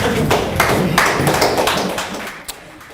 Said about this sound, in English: Applause afterwards as you got the word from the judge today